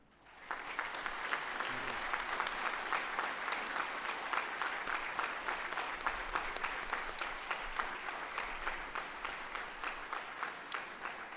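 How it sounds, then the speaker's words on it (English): Convocation audience applause at the IISER Bhopal second convocation, starting abruptly after a quiet moment and continuing as steady, fairly distant clapping from a large hall crowd. "You may now applaud"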